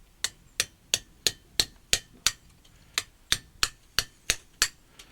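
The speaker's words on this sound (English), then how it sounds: "I'll continue working with the chisel" A metal chisel struck against stone during hand carving rings out in about fourteen sharp, evenly spaced strikes, each a bright, clicking impact, close and clear with no talk.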